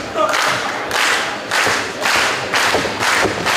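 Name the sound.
crowd clapping at wrestling match in Orlando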